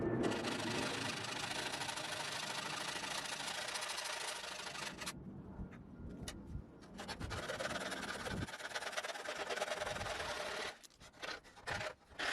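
Sanding on a Daytona USA arcade dashboard part: a continuous, close, harsh rubbing rasp that runs steadily, briefly lets up, then resumes with choppier strokes toward the end.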